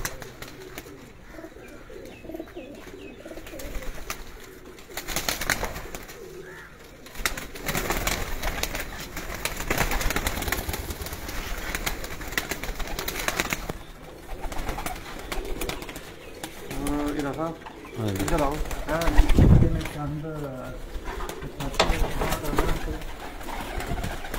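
Pigeons coo in bursts at a home pigeon show in Sargodha, with loud overlapping voices and crowd chatter throughout and a sharp louder burst near the end.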